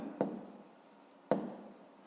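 A pen writing a math exercise on paper, two short, close scratching strokes about a second apart against a quiet background.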